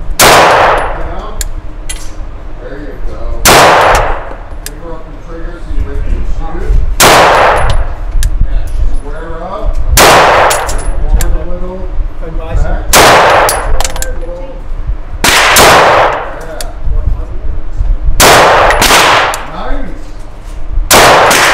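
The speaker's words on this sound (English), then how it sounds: "The first 10 with the Sig P320 Spectre Comp." A Sig P320 Spectre Comp pistol fired at an outdoor range, loud sharp shots spaced a few seconds apart, about ten in all, each followed by a ringing tail, with faint voices and bustle between shots.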